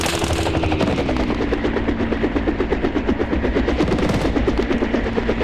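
Rapid, sustained bursts from 23 mm anti-aircraft cannons in a video game, a dense loud chatter of automatic fire running continuously with steady rhythm and no talk.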